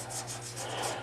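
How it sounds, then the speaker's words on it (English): Steel wool scrubs crud off a metal hood latch part on a 1963 Chevy Impala in rapid, rhythmic back-and-forth rubbing strokes, about six passes, close and fairly quiet. "I got a little steel wool, and that'll clean that right up."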